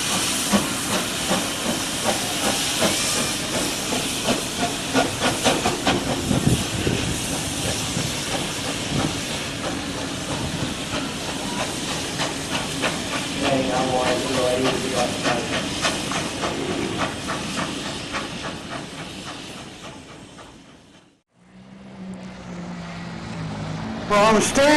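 Steam locomotive 3016 departs at Steamfest 2017, releasing a loud, continuous hiss of steam with rhythmic mechanical pulsing close by, before the sound cuts away abruptly near the end.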